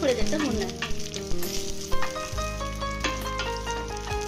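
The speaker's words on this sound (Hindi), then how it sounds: "किशमिश को हमें ज्यादा देर तक नहीं भूनना है, बस थोड़ी देर तक भूनना है।" Cashews and raisins fry in ghee in a pan, a close, lively crackling sizzle while metal stirring clinks along with a low steady hum, no talk heard.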